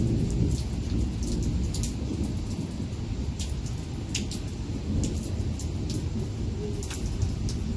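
A thunderstorm in Arizona: steady heavy rain pattering on surfaces with a continuous low rumble of thunder throughout, sharp drip and splash ticks scattered across the wash.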